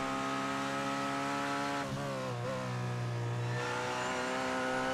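The Alpha Corsa LMP race car laps the Le Mans circuit with a steady, high, harmonic engine whine. Pitch and revs dip sharply and shift through a corner before building again, loud and continuous throughout.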